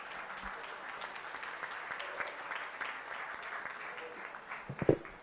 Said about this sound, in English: will you please just join me in thanking all of our panelists, including Ciro at home, with a round of applause